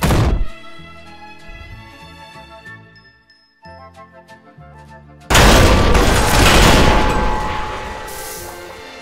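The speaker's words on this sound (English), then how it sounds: "range the gun and fire" A workshop-built model gun fires: a ringing mechanical sequence of clicks and tinkles, then a sudden loud burst that stays dense and roaring for several seconds.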